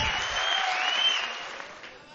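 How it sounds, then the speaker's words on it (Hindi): An audience applauds at an Independence Day mushaira, a poetry gathering, with dense, steady clapping that fades slightly toward the end. "आइए गुजारिश करें, जब तक तालियां बजाएं, जब तक राहत साहब माइक पर ना जाएं।"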